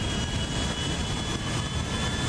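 Jet airliner engines in GTA 5 roaring steadily at full throttle for takeoff, a loud, continuous broadband rumble and whine with no talk.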